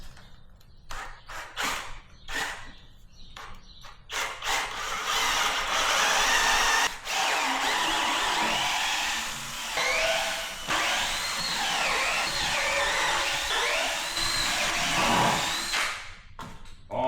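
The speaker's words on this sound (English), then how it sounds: "This thing hooked up and start drilling some holes." A power drill bores holes while a simple kayak storage rack is being built, starting in short bursts and then running in long, steady whirring stretches that sound close.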